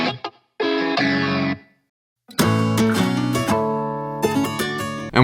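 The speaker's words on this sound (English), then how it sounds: "First thing that we had going into the studio session was this insane guitar riff" Two layered distorted electric guitars playing a riff through chorus and effects, first a couple of short held chords with a silent gap, then a thick, dense run of sustained notes, loud and alone.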